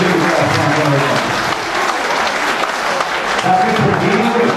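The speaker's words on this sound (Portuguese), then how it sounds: "aquele que é feliz de coração, uma salva de palmas" Sustained loud applause from an audience at a PRB political party event in Taboão da Serra keeps up as a continuous roar of clapping with crowd noise, while a voice talks beneath it.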